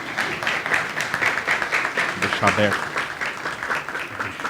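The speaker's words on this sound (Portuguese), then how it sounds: "Podem aplaudir." A church congregation applauds, brisk clapping spread through the room while a voice speaks briefly over it near the middle.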